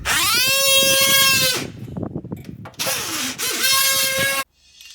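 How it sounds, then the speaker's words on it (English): An oscillating multi-tool cuts the seal between a vinyl window frame and its glass, giving a loud, buzzing whine that stops, rattles and scrapes briefly, then starts again in two more bursts close up. "you just use your multi-tool, let it do the work, and just kind of glide around the perimeter of the window."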